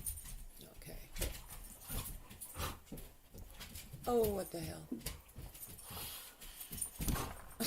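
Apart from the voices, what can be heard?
dogs fighting and whimpering beside the chair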